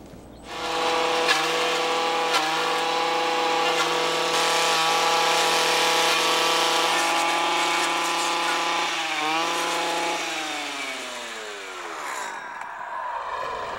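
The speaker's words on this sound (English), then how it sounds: "I've put a brush cutting blade on my string trimmer" A string trimmer fitted with a brush cutting blade chops through garden foliage during winterizing, its engine whining loud and close at steady high revs for about ten seconds before winding down as the blade slows.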